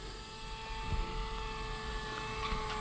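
A radio-controlled Piper J3 Cub model airplane makes a low pass with a steady, thin engine drone and propeller whine, moderately distant and fairly faint, with no talk.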